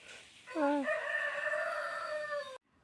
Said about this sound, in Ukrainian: Ох, і півні співають.